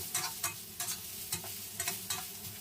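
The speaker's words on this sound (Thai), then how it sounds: "ผัดให้มันคลุกเข้าเข้ากับน้ำมันดีก่อนนะฮะ" Chopped papaya being stir-fried in oil, with a utensil scraping and tossing the pieces in about six regular strokes over a steady close sizzle.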